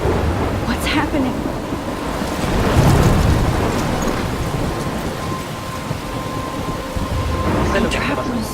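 Thunderstorm with rain in the video game Life is Strange: steady rainfall hissing on surfaces, with a rolling thunder rumble swelling near the middle, plus a few faint tonal game sounds.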